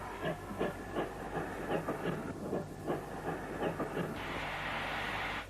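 A 1949 Hawksworth 0-6-0 pannier tank steam locomotive at Paddington station: a steady rhythmic run of chuffs and clanking wheel beats over rumbling rail noise, ending in a sustained loud hiss of escaping steam.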